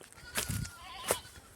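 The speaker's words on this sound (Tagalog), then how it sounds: "May kambing pa." A goat bleats twice, short wavering calls with a pause between, close by over faint outdoor background noise.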